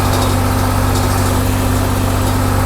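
Tractor engine drones steadily and loudly through a hay-mowing run, a constant close-up hum with no voices over it.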